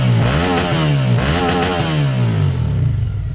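A 2019 KTM 1290 GT motorcycle fitted with a Scorpion exhaust revs loudly up close, two sweeping throttle blips rising and falling, then the engine settles back toward idle.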